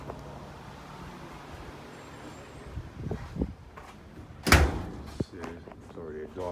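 Door of a 40-foot shipping container being moved outdoors, giving a single loud metallic bang or clunk after some faint scraping and handling noises, with light background noise around it.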